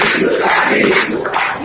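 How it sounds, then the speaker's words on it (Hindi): A large crowd at an RSS political gathering chants together in loud unison, voices filling the space throughout the short stretch, with rhythmic clapping likely mixed in beneath the shouting. "ताली बजाते बजाते कहना हिंदुस्तानी हिंदुस्तानी"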